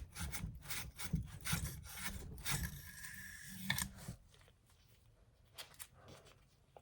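A cleaning brush scrubs inside a rifle's bolt carrier area with quick, rough back-and-forth bristle strokes, close and fairly quiet, fading to softer scraping toward the end.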